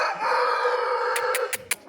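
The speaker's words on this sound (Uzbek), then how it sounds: "Mana xo'roz." A rooster crows with a long sustained harmonic call, close and loud, trailing off into a few short sharp clucks at the end, with no talking.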